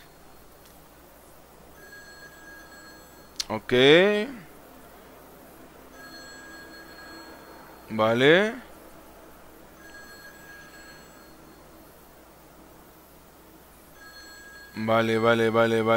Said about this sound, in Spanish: El teléfono está sonando y tenemos que ir, obviamente.